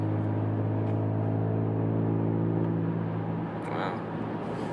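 2017 Ford Fusion Sport with mufflers removed and straight pipes from the cats, idling in a steady low, throaty drone that swells briefly before settling, heard close without anyone speaking.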